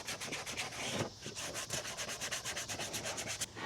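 Wooden edges of a craft piece are hand-sanded with 150 or 120 grit sandpaper, a quick rhythmic back-and-forth rasp of many even strokes, close and fairly quiet, with no voices.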